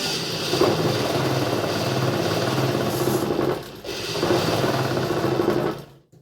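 A sewing machine runs steadily while stitching a baby girl's frock made from an old T-shirt, a continuous close mechanical whir with a brief pause midway before it starts again and then stops.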